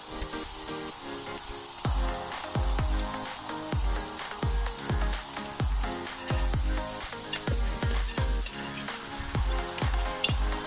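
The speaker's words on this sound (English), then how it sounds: "The last and final thing you want to do before you serve is to melt the butter herb sauce" Butter herb sauce melts and sizzles in a hot pan, a steady close frying hiss broken by about a dozen sharp rhythmic scrapes and taps of a utensil against the pan.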